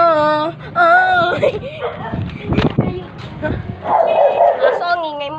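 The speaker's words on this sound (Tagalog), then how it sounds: "Aso, ang ingay mo." A dog barks and yips in short bursts close by, mixed in with excited voices talking and shouting over it.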